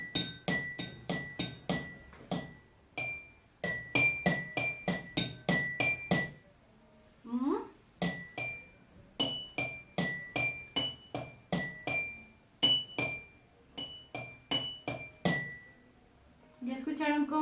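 Drinking glasses tapped to play a melody, bright ringing clinks in quick rhythmic runs with short pauses and a brief murmur of voices midway.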